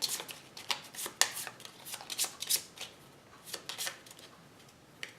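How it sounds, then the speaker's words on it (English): A deck of cards being shuffled for the Sylvion board game, a run of quick riffling and shuffling bursts close up and fairly soft, with no talking. "Let's shuffle."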